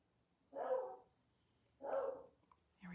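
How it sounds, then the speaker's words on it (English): A beagle stuck outside barking, two drawn-out muffled barks about a second apart with the start of a third, heard faintly from a distance indoors. "I apologize if you can hear the beagle barking"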